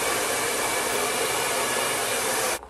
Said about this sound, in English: Blow dryer be hot as I don't know what